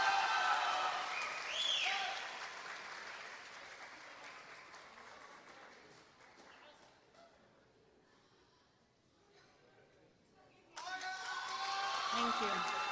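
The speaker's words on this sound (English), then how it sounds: "Let's give her a big round of applause as well." Graduation ceremony audience applauding a math teacher, starting as loud clapping and cheering, fading to quiet in the middle, then swelling again into a fresh burst of applause near the end.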